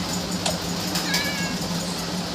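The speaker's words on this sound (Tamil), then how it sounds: "நம்ம பூனைக்குட்டி இதோ இருக்கு" A kitten meows in a Minecraft game over a steady game backdrop, a couple of short high cries standing out near the start and middle.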